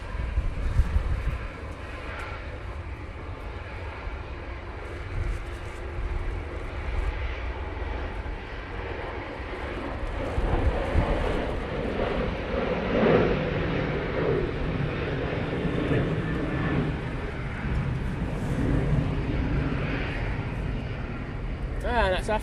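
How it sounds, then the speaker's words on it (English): A Jet2 Boeing 737 airliner roars down the runway on its takeoff roll at Manchester Airport on a windy day, a broad, steady, distant engine rumble. Wind buffets the microphone, and a person talks throughout. "Oh, it's Jet2 737 on the roll."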